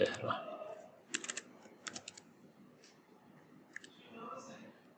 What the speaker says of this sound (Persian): بذارین تایپ کنم